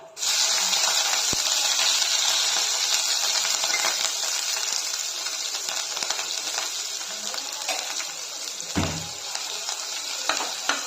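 Mustard seeds, cumin, green chillies, garlic, curry leaves and onion sautéing in hot oil give a continuous loud close sizzle, with occasional stirring scrapes and clinks and no talking.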